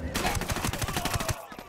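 Rapid bursts of automatic gunfire in the tactical shooter game Ghost Recon Wildlands, close and loud, a steady rattle of shots that cuts off near the end.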